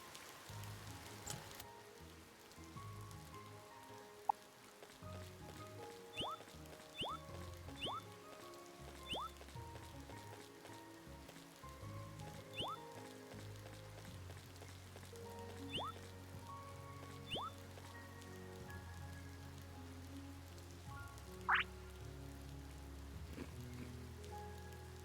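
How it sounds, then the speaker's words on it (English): Steady rain falling in a video game, a continuous soft patter with scattered drips and small watery blips layered over a low ambient hum, running throughout without speech. "Oh, it's raining again."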